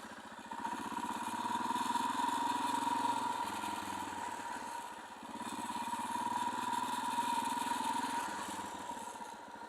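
A motorcycle engine runs at low, steady revs during slow riding drills of circles and figure eights, droning continuously and close by with gentle rises and dips in throttle.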